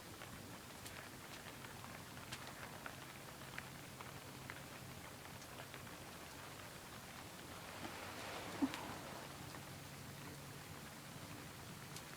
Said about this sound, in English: Now you can hear the rain, can't you?